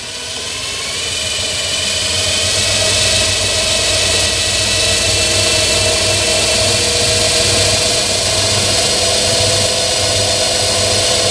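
An electric motor drives a dynamo on a test bench at 1500 rpm. It makes a loud, steady mechanical whine and hum with a strong tonal drone that rises in the first two seconds and then holds constant, with no talking.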